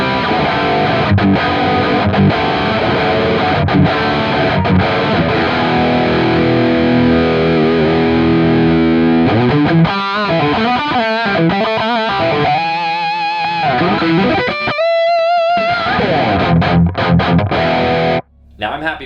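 A high-gain distorted electric guitar runs through a Fractal Audio AX8 with a Petrucci V30 cabinet impulse response, chugging dense chords before shifting to sharper riffs and single-note squeals, loud and dry, ending in a brief drop.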